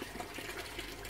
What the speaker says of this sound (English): This is the air pump